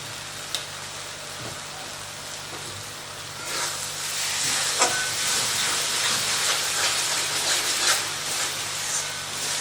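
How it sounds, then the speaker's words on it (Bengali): Paneer bhuna masala sizzles and hisses in a pan as it is stirred, starting quiet with a few clicks and then swelling into a louder, steady frying hiss with occasional scraping knocks. "এটাকে শুধু এখন এরকম নাড়াবো আর এটা কষতে থাকবে"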